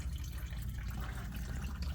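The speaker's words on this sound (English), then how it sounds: "just garden hose in the top" A garden hose runs into the top of a Chevy or GMC van radiator to flush out old coolant, giving a steady low rush of flowing, draining water, muffled and even throughout, with no talking.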